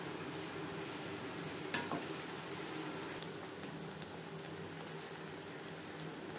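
Chana being stirred together with mutton fat and masala in a pan over medium flame gives a steady, faint sizzle and bubbling with soft scraping, continuous throughout and heard alone.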